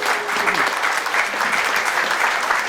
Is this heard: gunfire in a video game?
no